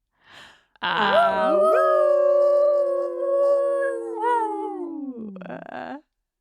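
A long, loud, drawn-out howl from a podcast's howl choir, holding a steady pitch for several seconds before sliding down and ending. A short faint sound comes just before it, and no words are spoken.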